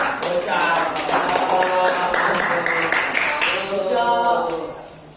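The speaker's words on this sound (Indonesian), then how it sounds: "Tepuk tangan untuk" Clapping from a classroom group for students about to present, sharp hand claps mixed with cheerful voices and talk layered over the top.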